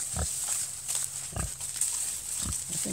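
Pigs close to butcher weight, around 250 pounds, in a pen, letting out a few short low grunts at irregular intervals, fairly quiet with faint outdoor background.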